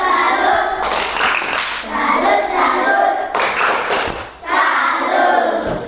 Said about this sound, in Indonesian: Baik, tepuk salut untuk kelompok 4.